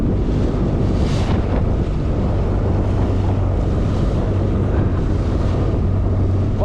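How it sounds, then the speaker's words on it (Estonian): Strong wind roars over large waves around a small fishing boat out on stormy water, a loud continuous rush with water slaps and buffeting microphone wind throughout, no voices. "seepärast lained on suured."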